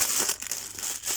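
Tissue paper crumpled close up, a brief bright crinkling rustle lasting about a second.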